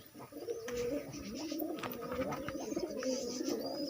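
Pigeons in a coop coo in soft, overlapping throaty murmurs, close and continuous, with a few faint chirps and light rustling in the background; no talking.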